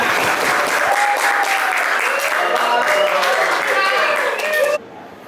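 A classroom of students bursts into steady, dense applause for the first group, sustained at close range for several seconds before cutting off abruptly.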